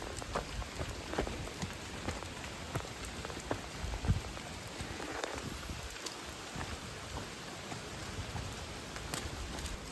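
Rain falling steadily during a monsoon trek, a dense patter of drops on leaves and surfaces with scattered louder nearby splats, continuous and close, no voices.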